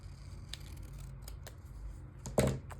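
Scissors trimming a printed page for a reading journal, a few soft snips spread across the moment and one louder, closer cut near the end over a quiet room hum.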